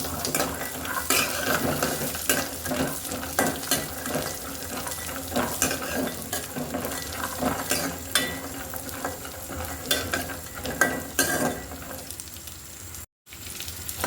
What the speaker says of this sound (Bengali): প্রথমে আমি দুই ধরনের বাদামগুলো কিন্তু ভেজে নিচ্ছি।